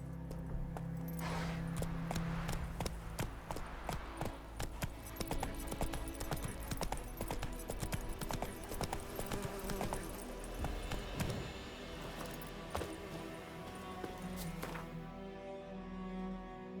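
Horse hooves clip-clopping steadily at a trot in The Witcher 3 video game, a continuous rhythmic patter of close, fairly quiet footfalls with no talking over it.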